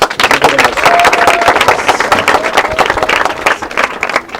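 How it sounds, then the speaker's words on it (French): Crowd at a school bench handover ceremony clapping loudly and continuously, dense sharp claps close by, with a few shouts and voices mixed in. "Applaudissons."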